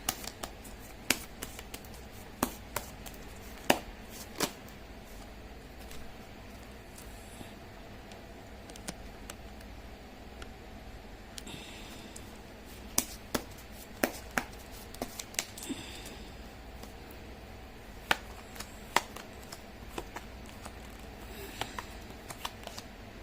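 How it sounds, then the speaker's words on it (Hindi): Tarot cards shuffled by hand in a quiet room, giving a soft continuous riffling texture broken by scattered sharp little snaps and taps, close and fairly faint, with no talking. "मैं कर लेती हूँ कार्ड की शफलिंग।"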